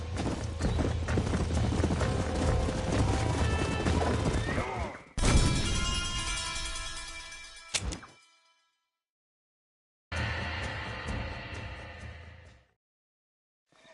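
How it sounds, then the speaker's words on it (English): Pack of wild horses galloping in a Red Dead Redemption–style video game, hooves clip-clopping loudly and densely with occasional crashes and a whinny, cutting out abruptly twice before resuming. "That ranch hand said there's a pack of wild horses nearby."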